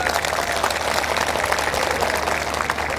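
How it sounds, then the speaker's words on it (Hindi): Women clapping in an audience at a speech gathering: dense, steady applause of many hands, fairly loud and even for the whole stretch, with no voices above it. "ताली महिलाएं भी बजा रही हैं।"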